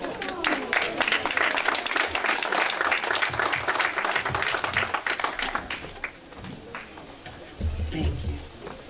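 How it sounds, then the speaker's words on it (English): Sustained, loud clapping from a conference audience honoring a civil rights worker's Legacy Award, steady for about six seconds, then thinning out, with a brief renewed burst near the end. "another rousing round of applause"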